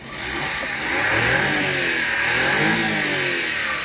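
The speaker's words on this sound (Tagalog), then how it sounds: "Yung makina natin is a Key 6A engine, 660cc, 64 horsepower, 12 valve, naka-timing chain AFI, 3 cylinder." A Suzuki K6A 660cc three-cylinder, 12-valve, 64-horsepower mini van engine with a timing chain and turbo runs steadily, a close, continuous mid-pitched hum and whine that swells slightly as if lightly revved.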